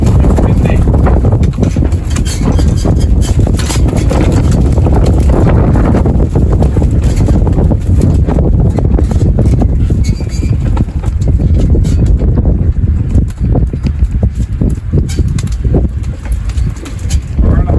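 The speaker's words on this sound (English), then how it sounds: "it's windy" Strong wind buffets the microphone at an outdoor long-range shooting setting, a steady loud roar with gusty fluctuations throughout.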